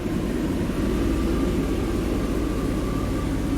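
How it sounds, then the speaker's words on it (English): A Chevrolet Express van's blower motor runs with an even, continuous whooshing hum and a faint tonal whine, loud and close, holding steady with no talking. "Now let's turn on the blower motor."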